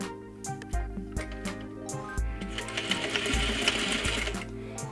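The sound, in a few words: sewing machine stitching trouser fly curve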